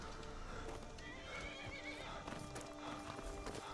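A horse whinnies over steady clip-clopping hooves in Skyrim, loud and continuous, with busy game ambience filling the background.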